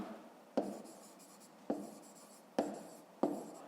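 A pen writes in an exercise book during a 5th grade maths exercise, with soft, close scratching and four sharp taps as strokes begin, quiet and alone.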